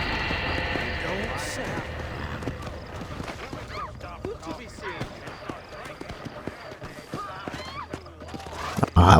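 Horse hooves clip-clop in the Red Dead Redemption video game, an irregular series of close hoofbeats that slows and thins out over several seconds, with faint game sounds around it.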